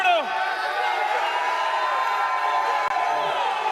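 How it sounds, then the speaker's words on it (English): A large Florida crowd at a Call of Duty League Major esports tournament cheers and chants continuously, a dense, steady roar of many voices close around, with a brief dropout near the end. "a lot of CEO chants out there"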